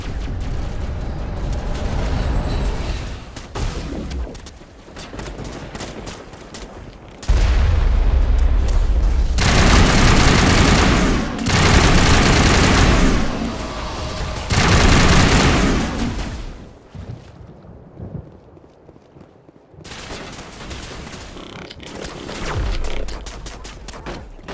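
Heavy crossfire in the video game Mass Effect, with sustained bursts of rapid gunfire and booming blasts swelling and dropping in loud waves, broken by brief lulls and a near-silent gap before the shooting resumes.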